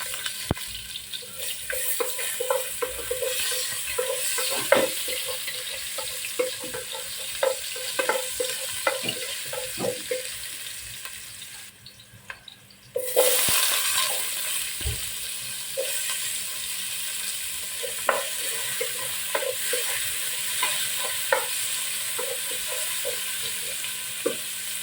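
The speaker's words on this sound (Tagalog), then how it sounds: "Luya, una natin igisa guys." Ginger sautés in a hot pan with a steady close sizzle and occasional clicks of stirring, briefly dropping out midway before resuming just as strongly.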